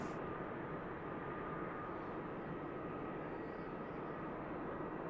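An EasyJet Airbus A320neo on final approach at Manchester Airport gives a steady, broad jet roar that stays constant and somewhat distant throughout.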